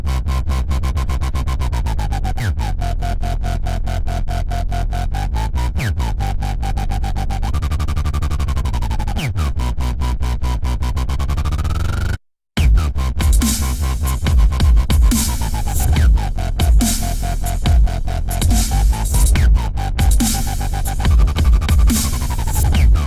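Synth bass patch with chorus and distortion playing a gliding, pitch-bent bass line over a steady electronic beat, loud and dense, with a brief dropout midway before the bass and beat continue with brighter texture.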